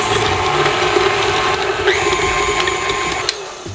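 An electric mixer mashes bananas for high-protein cookie dough, a steady whirring motor hum with mechanical buzzing that runs continuously and fairly loud, shifting pitch slightly partway through, with no talk.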